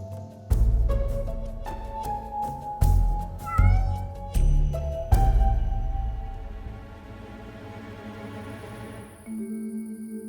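A cat in an office meows several times in close, loud, drawn-out cries, then the calls trail off into quiet.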